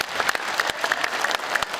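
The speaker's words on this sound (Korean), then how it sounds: "다시 한번 박수 한번 보냅시다." Audience applause at a county-head by-election candidates' debate, a steady wash of many hands clapping with distinct sharp claps standing out throughout, alone without talk.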